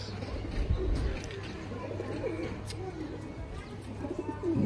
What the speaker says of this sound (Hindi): देखो सारे कबूतर मेरे उड़ते हैं